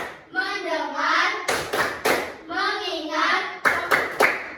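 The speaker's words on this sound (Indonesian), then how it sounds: "Coba sekali lagi. Tepuk fokus." A primary school class in Indonesia, grade 4 pupils with their teacher, chants together and then claps in crisp rhythmic bursts, the chant and clap pattern repeating twice, close and loud.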